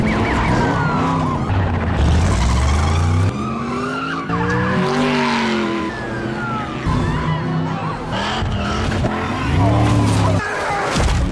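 A car speeding away through wild turns while police chase it, with tires squealing and skidding, the engine revving loud and close, and a police siren wailing alongside.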